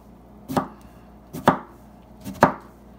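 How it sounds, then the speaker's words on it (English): A knife cuts the tip off a strawberry and slices it on a cutting board, giving three crisp, evenly spaced chops about a second apart, close and clear with no talk. "Cutting off the strawberry, you just want to cut the tip, just like that, and then you can slice it."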